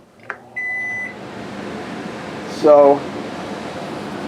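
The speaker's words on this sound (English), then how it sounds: "You spark it by turning this clockwise to light the oven and the burners." An RV gas oven igniter in a 2021 Crossroads Sunset Trail 212RB, one sharp click followed by a tone and then a short rapid burst of ticking sparks, heard close under a soft room hum with a brief spoken word.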